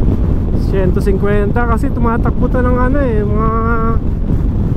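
Heavy wind roar buffets the microphone of a rider on a 2025 Kymco Xciting VS 400 maxi-scooter at speed on an expressway, a constant low rumble with someone talking loudly over it.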